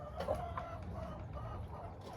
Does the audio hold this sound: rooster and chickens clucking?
yes